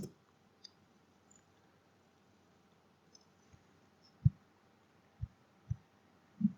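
Soft keys tapped on a computer keyboard, a few isolated dull clicks spaced apart over a quiet room, close and faint, with no talking.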